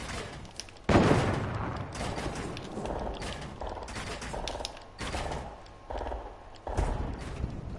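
Rapid bursts of video game gunfire shooting down part of a base in a duos match, a loud opening volley followed by repeated choppy rounds of shots with no talking.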